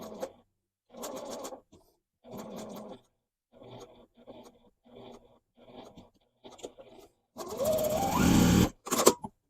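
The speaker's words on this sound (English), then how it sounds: "My machine will keep sewing if I just lift up that foot a tiny bit" Sewing machine stitching fabric with the presser foot lifted slightly and no pins, running in short bursts separated by brief pauses, then a louder, longer continuous run near the end.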